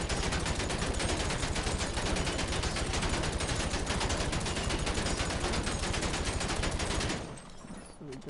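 Rapid sustained gunfire in GTA Online, dense automatic shots rattling loudly for about seven seconds before cutting off into quieter background sound.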